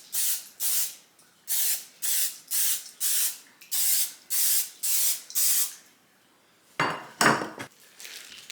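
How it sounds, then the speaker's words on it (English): Cooking spray hisses onto a muffin pan in about nine short, even bursts, close and fairly loud, followed after a pause by a few rougher, clattering sprays. "you want to either line or spray a muffin pan."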